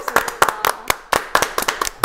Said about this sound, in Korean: 일단은 박수로 환영하겠습니다.